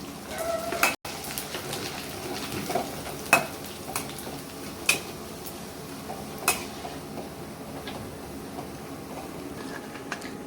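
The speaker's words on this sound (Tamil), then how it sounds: "இப்போ வடகத்தை பொரிக்கலாம் வாங்க." Steady sizzling of rice crisps frying in hot oil, with occasional clinks and scrapes of a utensil stirring in a pan.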